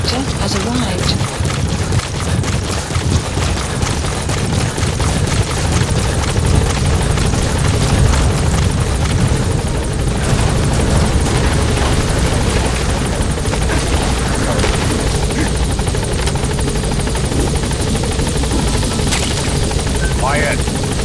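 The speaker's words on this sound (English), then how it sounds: "Support helicopter has arrived." A support helicopter arriving in the video game Metal Gear Solid V, its rotor a loud continuous thudding drone that fills the whole stretch, with radio-style voices speaking over it.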